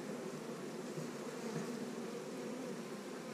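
Honey bees at an opened hive frame buzz in a dense, steady drone that stays even and constant throughout, soft and without any talk.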